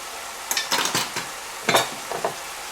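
Spoonfuls of yellow curry powder being stirred into chicken fried rice in a hot pan, a few short scraping and sizzling bursts of utensil against pan, close and fairly clear with quiet gaps between strokes.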